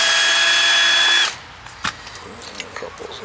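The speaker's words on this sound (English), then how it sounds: "Get a couple of screws loose now." Power drill whirs loudly and steadily for about a second, backing screws out of a frost-free outdoor faucet, then cuts off, leaving faint knocks and handling noises.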